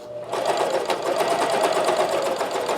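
A Janome CoverPro 1000CPX cover stitch machine runs steadily after a brief quiet start, a loud, continuous mechanical whir with a fast stitching rhythm that keeps going to the end.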